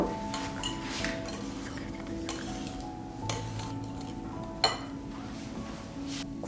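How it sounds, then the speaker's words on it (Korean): Metal utensil scraping and clinking against a bowl while cream cheese batter is mixed with melted gelatin for a no-bake rare cheesecake, with soft repeated taps and scrapes at close range and no talk. "크림치즈 반죽에 녹인 젤라틴을 넣고 잘 섞어주세요."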